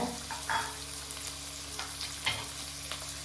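Onion and green chillies sauté in a pan for foxtail millet kichadi, a quiet low sizzle with a few soft stirring scrapes, no talking.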